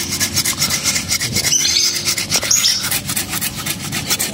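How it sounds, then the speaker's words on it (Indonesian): A hand saw cutting through the wood of a waru bonsai, a steady close rasping stroke that rubs back and forth continuously and loudly with no talk over it. "gergaji."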